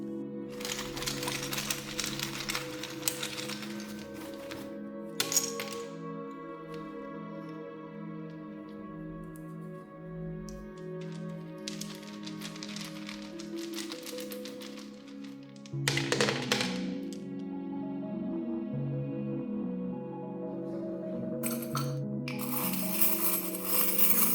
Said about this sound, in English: Let's get more messages with the charms and dice.